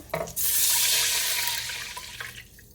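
About two cups of water pour steadily into a pot with a broad rushing splash that starts suddenly, then gradually thins and fades as the flow slows.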